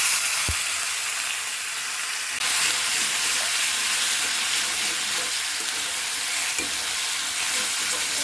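Spices for a prawn-head curry crackle in hot oil with salt and turmeric during tempering, a steady close sizzle that runs the whole time, with a soft thump near the start and a brighter surge midway, and no voices.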